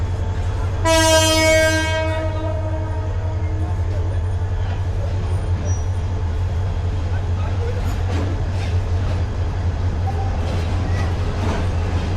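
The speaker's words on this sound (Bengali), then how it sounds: "ঊনত্রিশশো 6 লোক নিয়ে নরসিংদী কমিউটার ঢাকার বিমানবন্দর রেলওয়ে স্টেশন দিয়ে প্রবেশ করতেছে" Narsingdi commuter train pulling into Dhaka Airport railway station at night, opening with a loud horn blast of about a second, then a steady low rumble of wheels and carriages rolling through.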